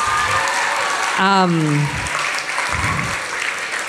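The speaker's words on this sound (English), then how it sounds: "Can we give another round of applause for" An audience claps for young readers at a teen press conference, a continuous bed of applause running under someone speaking over it.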